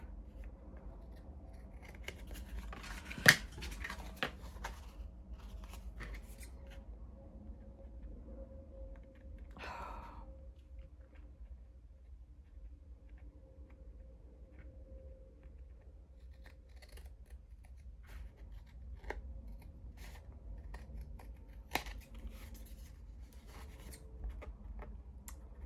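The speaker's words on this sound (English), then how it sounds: "so let's trim these" Scissors trim the pages of a handmade craft-fair notebook, heard as a few sharp close snips spread through a long, quiet stretch with faint rustling of paper between cuts.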